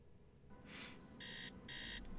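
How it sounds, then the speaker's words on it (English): In the video game Tales of the Neon Sea, an alarm clock gives short bursts of rapid electronic beeping, three rings in quick succession, fairly quiet over a low background drone. "But beep, beep, beep. Wakey, wakey, it's time to get up."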